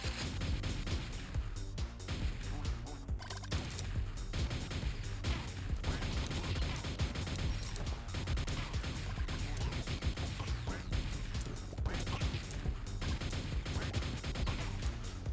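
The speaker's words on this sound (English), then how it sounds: "Oh, it actually shoots bombs." A weapon in the game Top Dog fires bombs, heard as a dense, continuous barrage of booming blasts and crackling explosions that stays loud and unbroken throughout.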